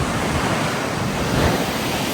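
Sea waves at Mandarmani beach, close to a seafront hotel, make a steady, loud rush of surf with some wind noise and no one talking.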